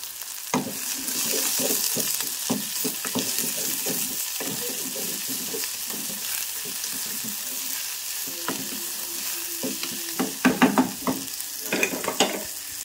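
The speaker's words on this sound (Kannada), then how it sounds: "ಉಳ್ಳಾಗಡ್ಡಿ ಇಷ್ಟ ಫ್ರೈ ಆಗುತ್ತೆ" Onions frying in hot oil in a home kitchen during festival cooking, a steady crackling sizzle broken by repeated stirring scrapes and spatula knocks that grow busier toward the end.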